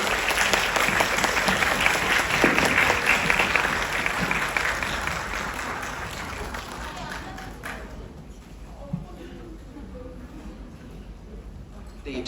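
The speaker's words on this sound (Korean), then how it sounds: "박수로 환영 부탁드릴게요" An audience at a Korean film screening and Q&A claps in welcome as the director and actors of the film 'Commission' are called to the stage. The applause is dense and loud, then thins and fades to scattered claps after about eight seconds.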